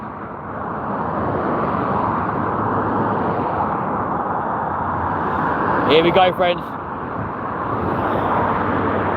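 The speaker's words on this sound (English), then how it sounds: "Apologies for the noise of the traffic," Busy evening road traffic near London Heathrow, a steady, broad roar of passing cars that runs throughout, with a voice speaking briefly over it near the end.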